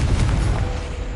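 A Confringo blasting spell bursts in Hogwarts Legacy, a loud, short booming blast with rumbling low-end crackle and no talk.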